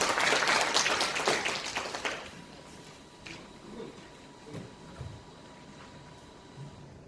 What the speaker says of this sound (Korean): 시장님께 다시 한번 큰 박수 부탁드리겠습니다.